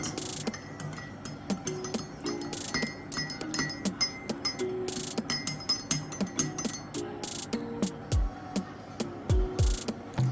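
A spoon stirs lemongrass (fever grass) tea in a glass, giving repeated bright clinks against the sides in an irregular rhythm, close and fairly loud, with a few heavier knocks near the end.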